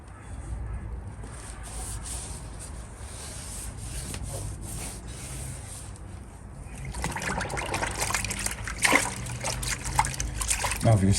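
Water splashing and trickling over a twenty-odd-year-old motorbike being washed from the top down, a steady wet rubbing wash that grows louder and busier in the second half.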